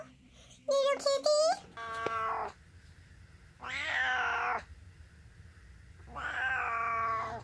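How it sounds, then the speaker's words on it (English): A cat meows several times up close, giving drawn-out, wavering cries with pauses between them, and a person speaks softly to it between the calls. "Hi, kitty. You wanna say hello? Little kitty?"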